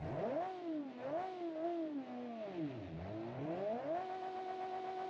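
A 1960s Torre Barchetta coupe with side-dump exhaust revs in a BeamNG driving game. The engine note rises and falls in smooth, wavering sweeps, then holds a steady, buzzy drone, loud and continuous.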